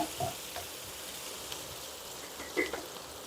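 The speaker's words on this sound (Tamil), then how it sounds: "குடமிளகா, மஞ்சள் colour, red colour, green colour எல்லாம் கொஞ்சம் வதங்கட்டுது." Red, yellow and green bell peppers sauté in a hot pan for pasta, giving a steady, close, even sizzle and crackle throughout with a couple of brief louder pops.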